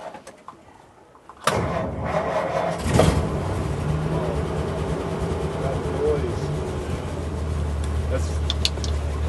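A 1948 Ford F1 pickup truck's engine cranks and catches after a quiet moment, then settles into a loud, steady, rough-edged idle nearby, with birds faintly audible in the background.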